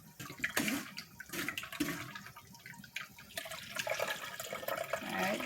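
Blended carrot and beetroot juice for a Jamaican-style drink pours and trickles through a strainer while a spoon works it down, wet splashing and gurgling in uneven bursts, close and moderately loud.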